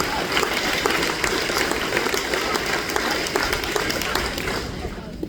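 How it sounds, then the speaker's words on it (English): A crowd applauds at a sprint car drivers meeting for the Knoxville Nationals, with steady, dense clapping sustained throughout at a moderate distance. "Give Dustin DeMoss a round of applause"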